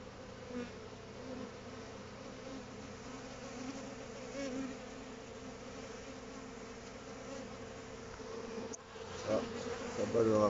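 Honeybees buzz steadily around a small nest box hive, a dense continuous close-up hum of many wings that swells slightly near the end.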